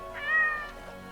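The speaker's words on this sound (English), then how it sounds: "she's actually got a pretty loud meow" A cat's meow voice from the Monster Hunter video game, one fairly loud, drawn-out meow that is not especially high-pitched, rising and then fading, heard alone.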